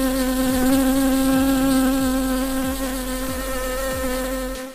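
Honey bees swarming close around a beekeeper in Pakistan give a loud, steady, droning buzz that holds throughout, with faint ticking clicks underneath and no voices.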